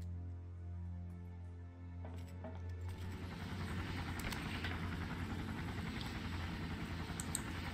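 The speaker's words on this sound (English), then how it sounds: "Now the plane's gonna go." A plane passes overhead in the video game Far Cry, its engine drone swelling from a quiet start into a steady, loud roar, with a few metallic clinks scattered through it.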